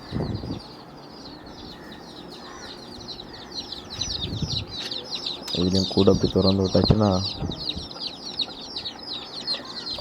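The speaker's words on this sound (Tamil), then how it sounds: "அப்படி மெதுவாக எல்லா கோழியும் கொஞ்சம் கொஞ்சமாக வரும்." Country chickens step slowly out of an opened coop, giving a burst of close clucking calls and some wing flapping over farmyard bird chatter, while someone talks throughout.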